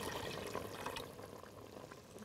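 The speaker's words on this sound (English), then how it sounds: "we'll take about 3 to 4 cups of water and we'll pour it into our basin." Three to four cups of water are poured into a cooking basin for quinoa, a faint steady wash of pouring water with no talk.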